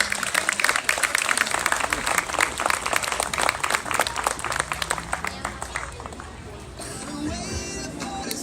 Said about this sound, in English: Let's give them a round of applause, people.